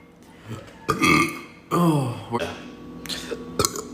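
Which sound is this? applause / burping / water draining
burping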